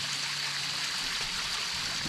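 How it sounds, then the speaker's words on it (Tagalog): Water from a mountain top pouring down like a small waterfall, a steady, close, continuous rush and trickle with no pauses and no voices. "Yung tubig na yan, galing yan dun sa tuktok ng bundok. Ayan, parang mini falls."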